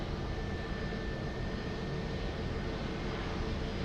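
A fixed-wing airliner's jet engines roar steadily during a takeoff run at Lisbon Airport, a faint, distant broadband rumble with no voices.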